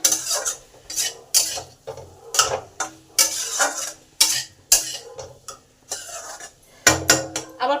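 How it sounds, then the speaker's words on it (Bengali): Vegetables stir-fried in a pan with ginger paste, green chilli and cumin, heard as repeated sharp scrapes and clinks of a spatula against the pan in an irregular rhythm, close and fairly loud, with no talking. "এই আদা বাটা কাঁচা লঙ্কা আর জিরেটাকে ভালো করে সমস্ত সবজির মধ্যে কষে নিলাম"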